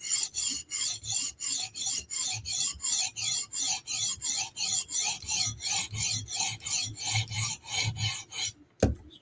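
Blade being sharpened on a stone, checking for a burr: steady back-and-forth rasping strokes, about two per second, close and loud, ending in a sharp clack.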